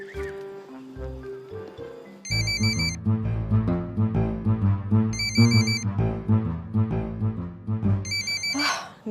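A phone rings with a repeating melodic ringtone in three bursts over steady music, with brief electronic chirps and a voice at the very end.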